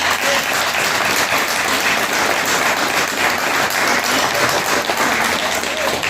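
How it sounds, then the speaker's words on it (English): Sustained, loud applause from an audience at a county Republican Party candidates forum, dense steady clapping filling the room throughout without a break. "Let's give our candidates a round of applause."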